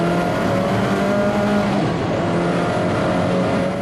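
Audi touring race car at Brands Hatch in a classic touring car race, engine roaring loud and continuous as it sweeps past on the wet track, with a slight pitch shift as it goes by.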